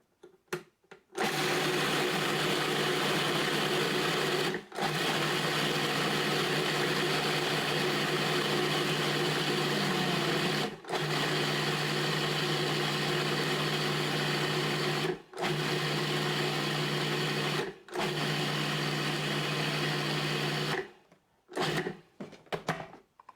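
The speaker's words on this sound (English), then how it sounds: "we're just going to process this till it looks like flour." A food processor grinds gluten-free oats into flour, a loud, steady whirring motor running nearly continuously for about twenty seconds, broken by four brief pauses between pulses before it stops.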